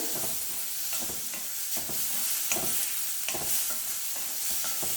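Rasam ingredients fry in hot oil in a pan, a continuous soft sizzle with repeated rhythmic stirring scrapes throughout, fairly quiet and close.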